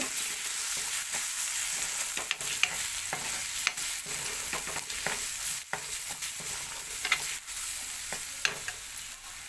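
Coriander powder and chili fry in oil in a pan for a tamarind fish curry, a dense continuous sizzle with scattered ticks and scrapes of stirring, close and steady throughout.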